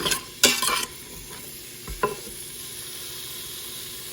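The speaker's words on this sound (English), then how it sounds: "So I've got some olive oil in the pot right now, and we're gonna dump all of these veggies in." Spring vegetables sautéing in olive oil in a pot: a steady low sizzle with a couple of clattering stirs and scrapes near the start, close and fairly quiet.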